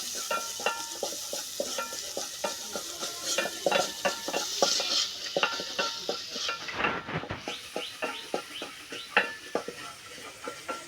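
Garlic frying in a pan makes a soft, continuous sizzle broken by a steady run of light clinks and scrapes from stirring against the pan, close and fairly quiet, no voices.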